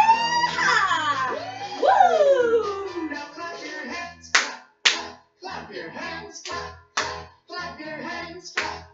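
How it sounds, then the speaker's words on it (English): Sharp hand claps ring out in a steady, loud beat in the second half, keeping time with a children's sing-along; a sung voice carries the melody before the clapping begins. "Clap your hands. Clap, clap, clap your hands."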